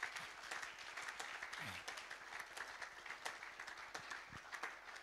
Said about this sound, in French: Acclamons très fort le roi des rois.